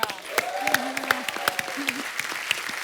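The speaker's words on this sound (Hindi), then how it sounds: "पहले तो जोरदार तालियां" Audience applause on a TV comedy talk show, many claps blending into a dense crackle, accompanied by a voice and some crowd noise.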